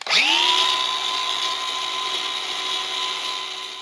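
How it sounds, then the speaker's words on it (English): A power sander or rotary tool smooths the cut edges of a plastic panel trimmed for a trailer hitch install on a 2021-2024 Toyota Sienna Hybrid, whining steadily at close range after a quick spin-up, with no talk. "now you can tidy the cut up and sand the edges so that it looks nice"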